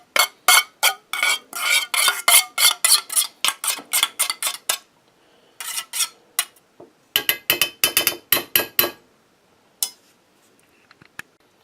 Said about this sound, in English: I just use it a little bit and then take it and stir that stuff up.